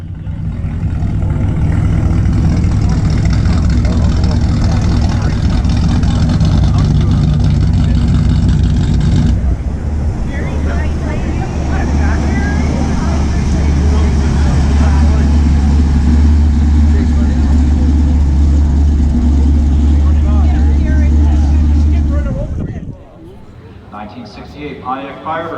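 A 1968 Pontiac Firebird 400 and a 1963 Studebaker Avanti R2 roar through a stock drag race, loud sustained engine drone shifting pitch midway, then cutting off sharply; people talk over the noise.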